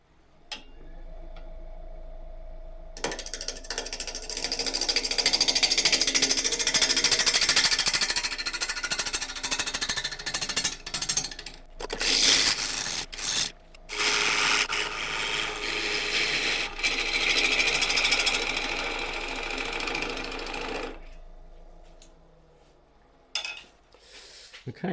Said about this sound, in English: I'm going to start turning at about 800 RPM.